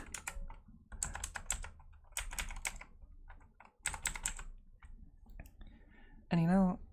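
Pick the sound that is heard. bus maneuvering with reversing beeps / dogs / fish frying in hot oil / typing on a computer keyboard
typing on a computer keyboard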